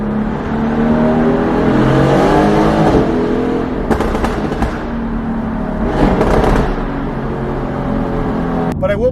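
A Mercedes AMG GTR fitted with an Fi exhaust system revs loudly and up close, its engine note rising and falling in several throttle blips over a steady rumble.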